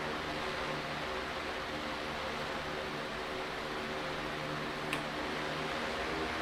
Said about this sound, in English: fans have a kind of a high-pitched whiz, buzzy kind of whizzing sound